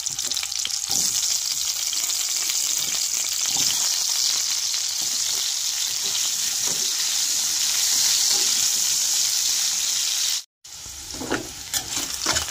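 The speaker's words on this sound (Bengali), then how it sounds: "এবার আমি ওই তেলেই মাছের আলুগুলো লাল লাল করে ভেজে নেব।" Potatoes frying in oil left over from frying fish, a loud continuous sizzle with occasional stirring and a brief cut near the end.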